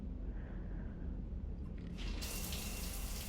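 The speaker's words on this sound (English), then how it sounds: "I figured you'd be more interested in a shower." Shower water running steadily in a cabin aboard a ship in the video game Mass Effect 3, a soft hiss that swells abruptly into a brighter, louder spray partway through, with no talking.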